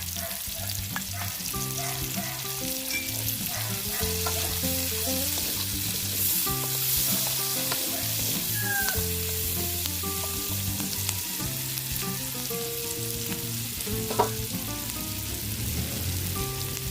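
Sliced onions sizzle steadily in a hot pan for pork sinantomas, a continuous close frying hiss with occasional stirring, while soft tonal music plays underneath throughout.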